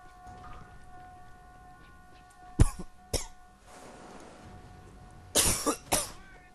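Two sharp, loud coughs, then a pause and a tight cluster of three or four more coughs. They cut through a quiet background of steady tonal hum during a Czech let's play of the shooter Alliance of Valiant Arms.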